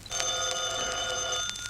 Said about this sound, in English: Answer the phone, Mary.